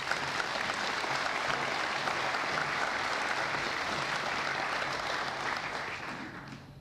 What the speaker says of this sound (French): Vous pouvez les applaudir aussi.